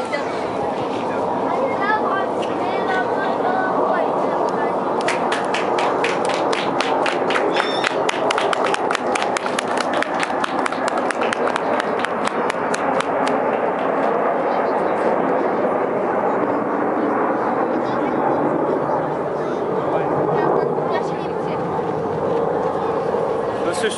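Russian Knights aerobatic jets, flying as a four-ship at a March 2015 air show in Rostov-on-Don, pass overhead with a loud, steady roar lasting the whole stretch. A burst of rapid clicking comes midway, and people talk nearby.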